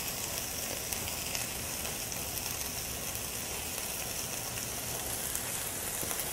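Paella sizzling steadily in a pan as it is stirred, a dense continuous frying hiss with faint scraping, close and even throughout with no voices.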